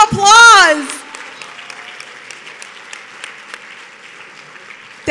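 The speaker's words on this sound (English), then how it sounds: "Give yourselves a round of applause." At a law school pro bono awards event, a loud rising vocal whoop opens, then an audience claps in a scattered, moderately quiet patter of individual hand claps that continues to the end.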